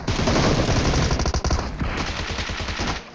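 Rapid automatic gunfire from a video game shootout rattles loudly and continuously in close, dense bursts with no talk over it.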